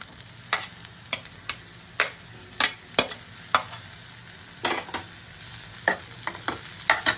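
Sliced capsicum bell peppers of three kinds drop into a pan of thinly cut beans and carrots frying in oil, under a continuous sizzle broken by repeated sharp scrapes and taps of a spatula.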